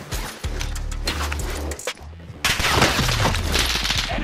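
Bursts of automatic gunfire in the video game Call of Duty Warzone, loud and close, firing in rapid repeated volleys with a brief lull midway before a heavier, denser stretch of shooting.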